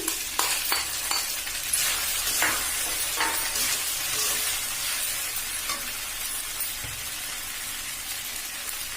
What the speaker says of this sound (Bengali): ডিমটা দিয়ে দিচ্ছি।